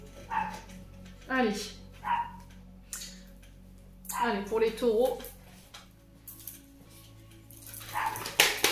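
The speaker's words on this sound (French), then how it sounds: "Excusez-moi pour le chien, mais je ne peux pas l'empêcher d'aboyer." A dog outside barks a few times in short bursts, partly overlapping someone talking nearby.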